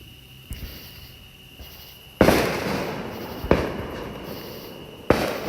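Fireworks around Peachtree City, Georgia crack and boom in several separate bursts, each a sharp loud blast trailing into a crackling decay, over a continuous background of insects chirping on a summer night.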